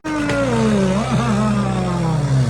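Ford tractor engine at a tractor pulling contest in Nurmahal, revving hard and loud up close, its steady drone shifting pitch with a brief dip partway through, running throughout without pause.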